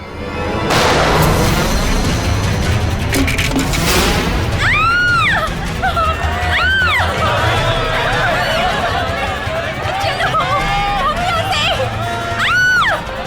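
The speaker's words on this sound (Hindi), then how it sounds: "अरे गोली चलने की आवाज कहाँ से आई?" A couple of sharp gunshot cracks ring out over a loud, busy commotion of crowd noise and voices, with shrill tones rising and falling.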